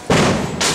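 Fireworks bursting outdoors on Christmas Eve in the Philippines, two loud booming blasts about half a second apart, sharp and close with broadband crackle.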